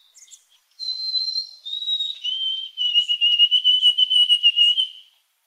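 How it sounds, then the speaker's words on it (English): A western white-throated sparrow sings alone: a thin, pure whistled opening note, a slightly lower second note, then a steady run of rapid repeated two-syllable phrases held on one pitch, clear and fairly close. "I'll let you listen to a white-throated sparrow that's from out west."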